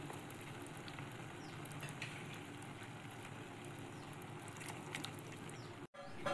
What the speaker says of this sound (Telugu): ఇప్పుడు గ్రేవీ ఉడుకుతూ ఉంది